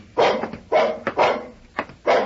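A dog barks repeatedly in a home at dinner time after someone comes to the door: several loud, close woofs in an uneven rhythm with short gaps, and no voices over them.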